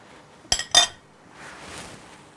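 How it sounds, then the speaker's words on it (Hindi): A metal spoon clinks twice against a cooking pot as it is cleaned off, two sharp, close taps in quick succession, followed by a soft scraping rustle. "स्पून को हम साफ कर देते हैं"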